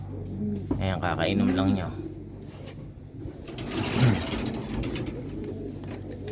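Racing pigeons cooing in a loft, a cock and a hen among them, with soft throaty coos rising twice amid shuffling and rustle while someone talks nearby.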